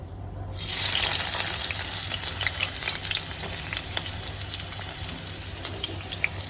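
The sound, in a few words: onions frying in hot oil with green masala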